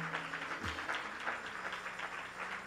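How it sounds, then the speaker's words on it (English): Church congregation applauding during a worship service, a steady wash of many hands clapping at moderate volume, fairly distant and diffuse, with a faint low tone underneath. "Can we just give God another round of applause?"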